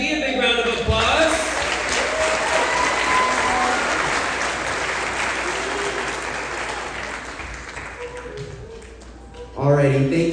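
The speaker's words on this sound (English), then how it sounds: "a big round of applause" A sustained round of audience applause at an elementary school graduation ceremony for 4th and 5th graders, loud and dense for about nine seconds, briefly preceded and followed by a voice speaking.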